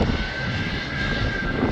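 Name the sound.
KLM passenger jet departing at Schiphol Airport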